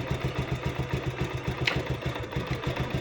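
A motorcycle engine idles just after starting, a steady close-up chugging with an even rapid pulse that holds throughout.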